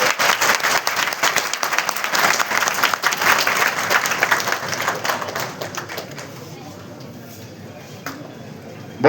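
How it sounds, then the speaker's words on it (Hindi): Loud, dense applause from a large crowd filling a hall at a political party joining event. It is strongest through the first six seconds, then thins to scattered claps. "कृपया ताली बजा दें।"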